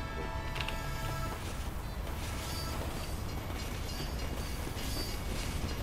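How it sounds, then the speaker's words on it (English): A train rolls by in Team Fortress 2, a steady dense rumble with rattling clatter that runs unbroken for the whole stretch. "Well, it's a train!"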